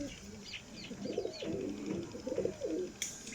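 Pigeons of a flying breed coo close by in soft, rolling phrases that repeat several times over a quiet background, with a faint chirp or two mixed in.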